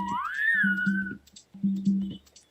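A whistling flower in a Nick Jr. gardening video game gives a bright rising and falling whistle, followed by two short bursts of low, buzzy rhythmic tones separated by a brief pause, fairly soft overall.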